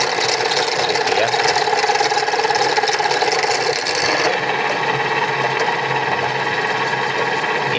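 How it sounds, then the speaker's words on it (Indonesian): A drill bores steadily through a motorcycle front fork shock, a continuous high whirring motor at close range that eases slightly partway through. "Gimana pun caranya kita harus ngebornya di tengah-tengah"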